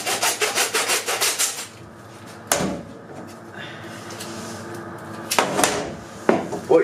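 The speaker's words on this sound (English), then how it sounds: "if you don't have a hacksaw, I'll do this first one with a hacksaw" A hacksaw cuts through a deer's hind leg at the hock, near the Achilles tendon, in a run of quick, steady rasping strokes, then a few sharp scrapes and knocks of the blade follow, close by.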